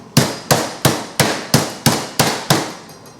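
Veal scaloppine being pounded thin with a meat mallet, eight sharp, evenly spaced thuds about a third of a second apart, loud and close with short decays.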